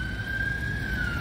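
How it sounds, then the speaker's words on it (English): An ambulance siren holds a single steady high tone, loud and continuous over low traffic rumble, heard from inside a moving car. "ambulance"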